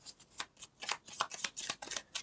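Tarot cards being shuffled by hand, a quick run of crisp riffling flutters and slaps, fairly close and moderately quiet, with no talking.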